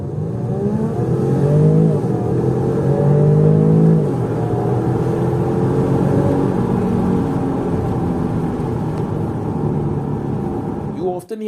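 A supercharged 2015 Range Rover Sport HSE engine roars loudly as it accelerates, its pitch climbing in a sustained powerful drone before cutting off at the end.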